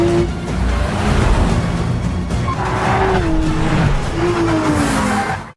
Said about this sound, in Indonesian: Ketika mobil mafia itu mengalami kecelakaan, Mike berhasil keluar dari bagasi